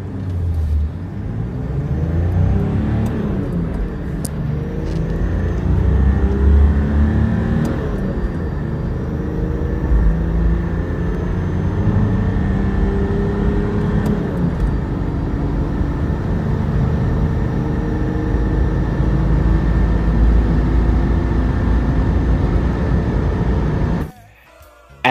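Nissan Patrol Y61 engines, petrol and turbo diesel, idle and rev with a deep continuous rumble, swelling with throttle blips, loud and close, before cutting off near the end.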